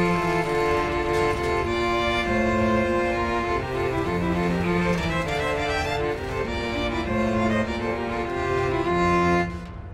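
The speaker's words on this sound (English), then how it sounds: "this guy's setting of Psalm 42 features an ostinato bass line that illustrates the 50s progression" A choral or instrumental setting of Psalm 42 plays over a repeating ostinato bass line that moves through the 50s chord progression. The music is full and continuous, and the low notes step in a regular cycle.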